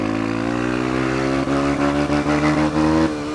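A motorcycle engine revs steadily under throttle, its harmonic drone holding even and then pulsing through several quick blips toward the end, loud and close with no one speaking.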